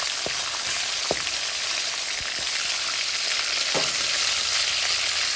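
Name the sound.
fenugreek, mustard, cumin and onion sautéing in a pan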